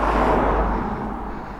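Steady road noise of cars running past at 6:30 in the early morning, a continuous low rumble that swells slightly at first and then eases, with no talk over it.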